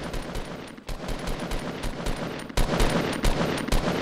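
Rapid gunfire from a Fortnite match, a string of sharp shots in quick bursts with a louder, denser volley midway, heard close and without talk over it.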